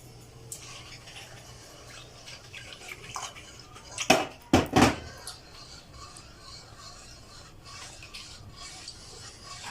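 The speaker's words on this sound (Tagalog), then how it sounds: "Haluin hanggang matunaw." Sugar stirred until dissolved in a pot for a custard jelly graham dessert: faint wet swirling, with a few sharp louder clinks and scrapes of the utensil against the pot near the middle.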